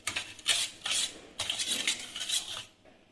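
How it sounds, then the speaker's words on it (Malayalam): Dough ingredients with a quarter cup of sunflower oil being mixed in a bowl for sweet buns, giving close, fairly quiet bursts of scraping and clinking from a utensil against the bowl in irregular strokes. "പിന്നെ കാൽ കപ്പ് സൺഫ്ലവർ ഓയിൽ ഇനി നന്നായിട്ട് മിക്സ് ചെയ്ത് കൊടുക്കാം"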